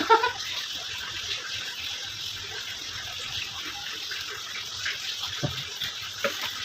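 Liquid poured from a larger container into a small bottle in a home kitchen or bathroom, a steady faint gushing trickle with a few small splashes and gurgles, no talking.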